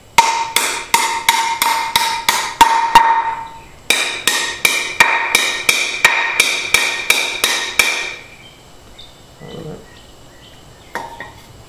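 Nails are pounded with a 4-in-1 multi-tool in two quick bursts of crisp metallic blows, around a dozen each, loud and close. Quieter handling noises and a light clink follow.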